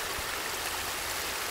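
Water pouring over a beaver dam in a stream, a constant close rushing wash with no voices.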